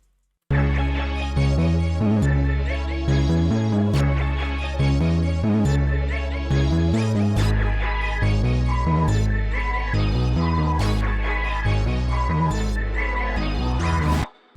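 A hip hop beat intro plays alone, with a steady rhythmic bass pattern and layered melodic tones running continuously for about fourteen seconds.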